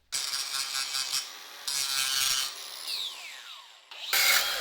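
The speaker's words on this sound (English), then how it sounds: "I'll use the grinding disc to get it a lot of the way, and then I'll go in with the sander and files." A grinding disc cuts into a steel part on a Honda chopper motorcycle build, close and loud: the disc whirs in sustained bursts, winds down with a falling whine, then bites in again.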